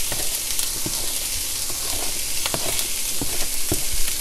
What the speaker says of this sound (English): this pan is gonna be nice and hot when we throw these vegetables in, which is the sound we love